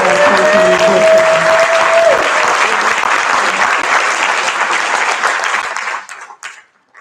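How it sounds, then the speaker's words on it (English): Dense applause fills a school board meeting as the room honours its high school students, steady and close for about six seconds before thinning out into a few scattered claps. "How about a round of applause for our high school"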